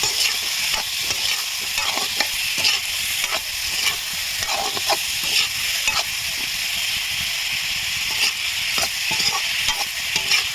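Chili, salt, turmeric and ground spices sizzle steadily in a hot pan for a village-style home dish, a dense continuous hiss broken by frequent clinks and scrapes of stirring, with no talking.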